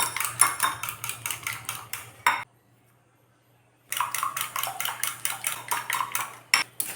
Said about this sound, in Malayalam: 3 മുട്ട പൊട്ടിച്ച് ഒരു ബൗളിലേക്ക് എടുത്ത ശേഷം നന്നായി ബീറ്റ് ചെയ്യുക